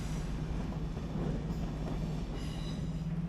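Continuous rumble of a train in Copenhagen's underground main station, with a low steady drone and faint metallic squeals drifting in and out.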